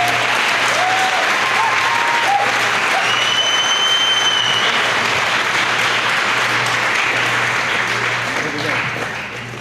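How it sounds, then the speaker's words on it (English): Sustained applause from a large audience at a Tohono O'odham Nation pageant fills the space, loud and dense throughout, with a steady hum beneath and faint voices cutting through before it tapers near the end. "let's give her a round of applause"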